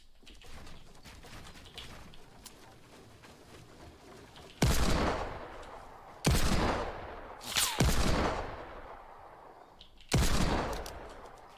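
Sniper rifle shots in the video game Fortnite Battle Royale: four sharp, loud cracks spaced a second or two apart, each trailing off in a decaying echo over quieter background ambience.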